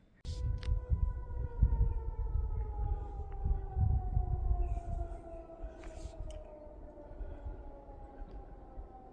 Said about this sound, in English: Siren just went off. A loud one.